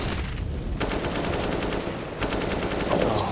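Rapid automatic gunfire from Counter-Strike: Global Offensive pro match play on the Train map, dense sustained bursts with brief gaps, loud and continuous throughout.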